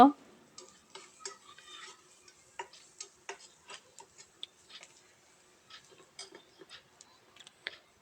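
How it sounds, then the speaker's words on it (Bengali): A spoon works through a chicken momo filling mixed with dry chili powder, giving a string of light, quick ticks and taps against the bowl over a quiet background, irregular and fairly close. "শুকনো মরিচের গুঁড়া দিয়ে সুন্দর করে এটাকে নাড়িয়ে নেব।"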